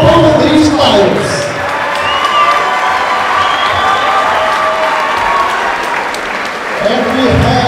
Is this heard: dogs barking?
no